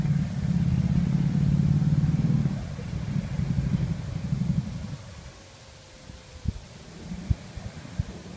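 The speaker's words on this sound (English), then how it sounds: "The gear shifting and going into low and stuff always sounds like something's going on." Off-road vehicle engine on the Moab Golden Spike trail, a low rumbling drone at moderate distance that shifts down and eases off, followed by a few sharp knocks and clunks.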